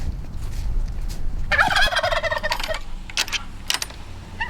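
Heritage turkeys on a farm gobble in a loud, rattling burst nearby, followed by a few shorter calls and scattered clicks and clatter.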